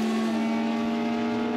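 Race cars accelerate at the start of a race at Mid-Ohio Sports Car Course, a loud, steady, close engine drone that holds without pause and with no talking.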